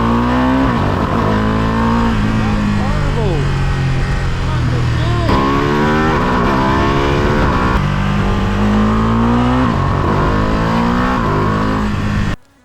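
A 2025 Ducati Multistrada V2 S engine revs loudly and continuously, pitch rising and dropping repeatedly with gear shifts, before cutting off abruptly at the end.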